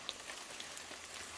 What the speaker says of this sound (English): Onwards into the rain.